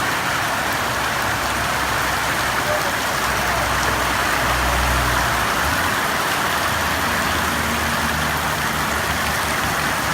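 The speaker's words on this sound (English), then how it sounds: "It's bucketing. Hallelujah. Oh, it's pissing down." Heavy rain pours down steadily in a continuous dense hiss, close and loud throughout, with faint engine-like rumble low underneath.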